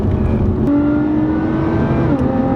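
A Lotus Evora 400 sports car accelerates with a loud, steady engine drone whose pitch climbs, then dips briefly near the end as if shifting gear, heard close from inside the car.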